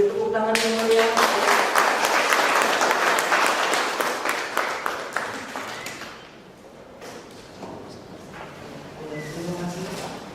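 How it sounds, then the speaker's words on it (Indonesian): An audience at a university focus group discussion breaks into loud, dense applause that gradually thins into scattered claps, followed by quieter murmuring and some talking near the end. "beri tepuk tangan yang meriah"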